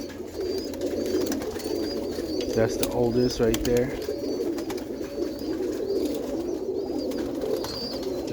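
Young roller pigeons coo in a soft, low, repeated burble throughout, with someone talking briefly over the birds.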